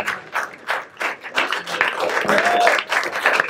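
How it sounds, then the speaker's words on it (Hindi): An audience at Irshaad 3.0, a performance event at Above The Habitat in Mumbai, breaks into close, loud applause welcoming a performer, a dense continuous patter of many clapping hands. "तो सब सुर भरी तालियां बजाएंगे और स्वागत करेंगे हमारे बीच में"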